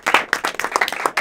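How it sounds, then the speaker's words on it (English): Applause and clapping from an audience welcoming the improv comedy trio SITMO onto a stage, dense and lively with excited shouts mixed in, lasting just over a second. "Give them a big round of applause."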